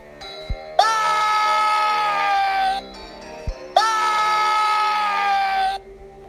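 A boy shrieks in terror at a menacing monster, giving two long, loud, sustained screams split by a short pause, each opening with a sharp onset.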